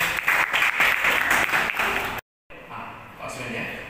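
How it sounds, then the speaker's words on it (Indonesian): An indoor audience at a local election-supervisory meeting claps: dense, close applause for about two seconds, a brief cut to silence, then scattered lighter clapping trailing off. "Boleh tepuk tangan."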